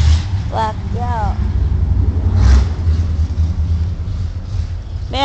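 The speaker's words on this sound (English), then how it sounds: "Man, that truck sounds worse and worse every time you ride by." A truck with a bad muffler drives by, giving a loud low engine rumble that swells near the middle and fades, while people talk over it.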